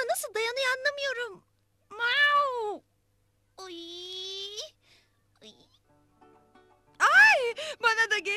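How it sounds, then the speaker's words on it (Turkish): A cat meows repeatedly and close by: a few drawn-out, rising-and-falling calls separated by quiet pauses, with one higher, longer cry in the middle and a final emphatic meow. "Ah kara kedi."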